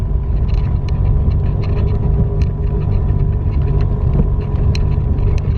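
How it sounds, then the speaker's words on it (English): A four-wheel drive vehicle, a Jeep, driving through deep mud on a woodland track, a loud continuous low engine rumble with sloshing and scraping throughout. "Put it in the 4-wheel drive and it's absolutely not a bother."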